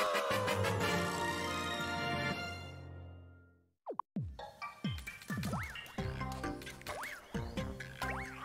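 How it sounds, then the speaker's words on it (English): In Super Mario Odyssey, Mario is captured as a frog: game music cuts out into a short whooshing transformation effect, then bouncy, croaky frog jump sounds repeat over resumed playful music. "I am now a frog."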